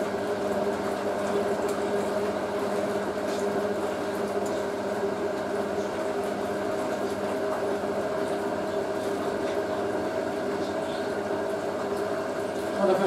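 A Hotpoint 9530 Electronic 1000 Plus washing machine working through its final rinse and spin, a steady close whirring drone with a constant watery churning, even in level for the whole stretch, with no voices.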